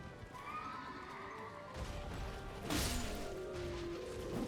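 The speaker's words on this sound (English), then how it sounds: "I find a guy riding a horse." A horse in the video game Elden Ring neighs, with a drawn-out whinny followed by clopping hooves and a sharp crash partway through, all fairly quiet and with no talk.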